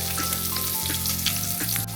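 Five-finger peach root is stir-fried in a wok until fragrant, with a dense, continuous close sizzle and faint stirring scrapes.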